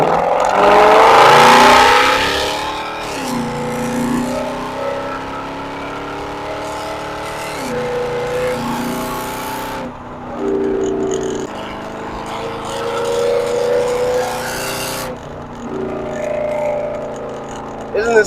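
A Mercedes C63 engine revs hard and accelerates on an open road, climbing through gears with rising whine and throaty roar, heard from inside the cabin with brief pauses between pulls.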